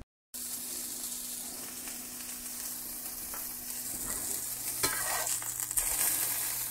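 Quail and rabbit breakfast sausage fries in a pan with a steady, close sizzle and crackle that builds slightly, with a few sharper pops near the end and no talking.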